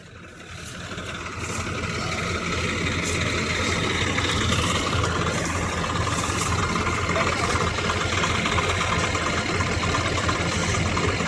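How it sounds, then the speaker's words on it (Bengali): A Swaraj 744 FE 4WD tractor stuck in deep mud runs its engine steadily, a continuous loud low rumble with rough churning as the wheels spin and slip, building over the first two seconds and then holding without talk. "মেশিনের চাকা স্লিপ হয়ে গেছে"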